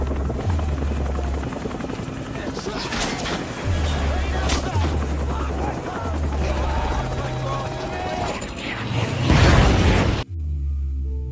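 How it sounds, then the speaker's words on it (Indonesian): A helicopter's rotors thump loudly as it crashes to the ground amid a chaotic mix of bursts and crashing impacts, with voices shouting under the din before an abrupt cutoff. "Helikopter pun jatuh ngerusuk ke tanah"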